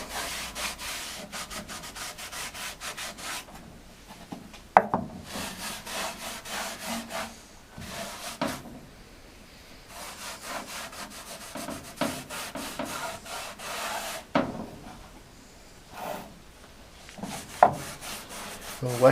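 Wax being rubbed by hand onto a wooden bureau, repeated bursts of scratchy back-and-forth rubbing with short pauses and a few knocks, fairly close and clear, with no talk.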